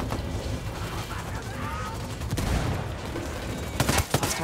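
Frag grenade and gunfire in the Ghost Recon Wildlands video game: sustained loud combat noise with a heavy low burst midway, then a rapid sequence of sharp bangs near the end.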